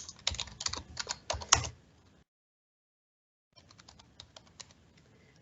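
Rapid typing on a computer keyboard, close and clear: a burst of clicking keys, a pause of about a second of silence, then a lighter, quieter burst of keystrokes.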